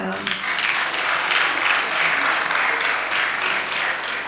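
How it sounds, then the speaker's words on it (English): A burst of crowd applause, dense steady clapping from many hands that holds at an even level for several seconds. "I thought you'd clap hands."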